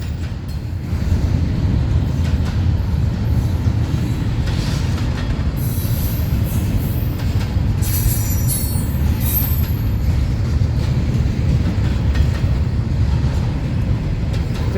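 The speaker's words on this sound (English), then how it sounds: "It's a long train." A long southbound freight train hauled by LNG locomotives grinds steadily past out of Jacksonville, Florida, a loud continuous roar of cars with repeated high-pitched wheel squeals.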